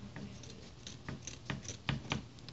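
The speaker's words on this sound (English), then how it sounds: "So I'm just gonna cut the 2 inches off the side." Scissors snipping through fabric while trimming a doll costume, a run of soft, quiet cuts with crisp clicks spaced irregularly, close by and with no talk.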